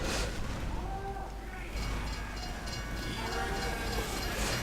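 A freight train rolls along in a video game, a continuous rumbling, clattering drone with faint tonal hums, steady and fairly loud throughout.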